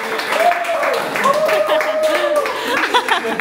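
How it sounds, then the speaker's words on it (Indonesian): An audience at an indoor birthday gathering claps hands together in a dense burst, with voices and a little laughter mixed over the clapping. "kita tepuk tangan dulu."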